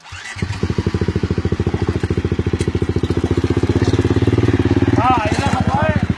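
A motorcycle engine revs hard and steadily at close range in a muddy uphill puddle climb during an off-road contest, its loud rapid firing pulses running throughout, with voices calling out briefly near the end.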